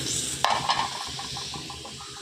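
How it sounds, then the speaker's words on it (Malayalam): Pakoda (pokkavada) frying in hot oil in a home kitchen, a steady soft sizzle with a few light clinks and stirring scrapes, close and continuous with no talking. "പൊക്കവട ചുടാനായിട്ടുള്ള എണ്ണ ചൂടാക്കാൻ വെച്ചു"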